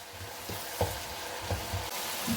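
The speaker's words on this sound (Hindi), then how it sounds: "मसाले को यहाँ पर हम अच्छे से भून लेंगे।" A spice masala with mashed tomatoes frying in oil for cholia pulao, a soft steady sizzle with several light spoon knocks scattered through it, nearby and quiet, no talking.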